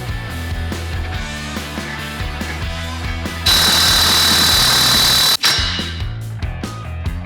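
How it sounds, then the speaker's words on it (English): An impact wrench with a large Allen head driver hammers axle parts onto a farm truck in a workshop, a loud rapid rattling burst that cuts in midway over a steady background hum, then stops abruptly and the hum resumes. "I got this big Allen head driver so I can use an impact wrench to just hammer these on really hard"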